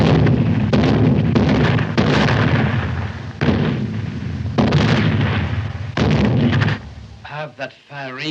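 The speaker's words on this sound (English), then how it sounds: "Have that firing stopped." Loud artillery salute fired in a ceremonial military setting: a rapid series of heavy booming reports, roughly six in quick succession, each with a rumbling tail, followed by a brief voice at the end.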